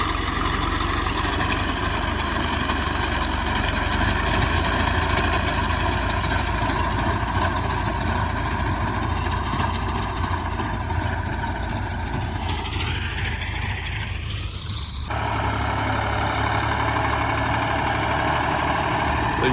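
A tractor engine idles during a crop harvest, with a steady low rumble that holds throughout and a brief shift in tone near the end.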